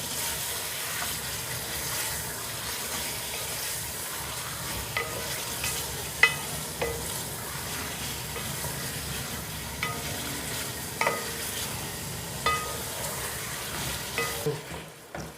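Chicken frying in a pan over moderate heat for white chicken biryani, giving a steady close sizzle with occasional sharp clicks and scrapes of stirring, no voices.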